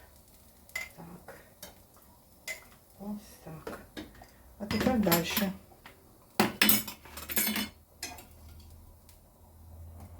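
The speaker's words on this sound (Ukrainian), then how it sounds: "І ложкою накладаю у мене велика ложка." A metal spoon clinks and scrapes against a dish repeatedly, with soft wet scooping sounds of eggplant in adjika, while a person speaks briefly.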